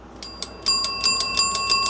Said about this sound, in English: Even the bell works.